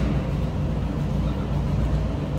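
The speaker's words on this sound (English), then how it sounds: "A little rumble coming out of it, nothing crazy." Steady low engine rumble from the exhaust of an idling 1960 Pontiac Bonneville Convertible with a 389 engine, continuous and fairly loud, with no talking.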